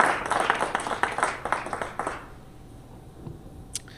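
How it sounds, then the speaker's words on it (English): A tech meetup audience claps for a guest speaker in a short round of applause. It is lively for about two seconds, then thins out and fades to a quiet room with a few stray sounds. "Let's get a round of applause for our guest."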